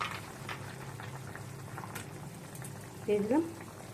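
Pabda fish curry broth with potatoes bubbles at a rolling boil in a pot, a close, continuous burbling simmer. Someone speaks briefly toward the end.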